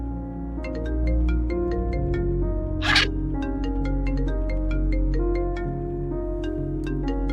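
A phone ringtone plays during a call in a domestic TV drama scene, a steady repeating electronic melody that is moderately loud and continuous throughout, with no talking over it.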